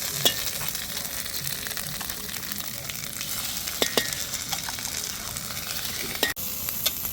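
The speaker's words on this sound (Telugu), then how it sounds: "ఈ పేస్ట్ని ఒక ఆరేడు నిమిషాలు ఫ్రై చేసుకోవాలి" Ground paste frying in hot oil for a fish dry curry, a steady close sizzle and crackle with occasional sharp pops and a few spoon scrapes and clinks.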